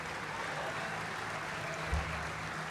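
Audience applause at a mushaira poetry gathering in Doha, a steady, even wash of many hands clapping at moderate distance, sustained throughout with no voices over it.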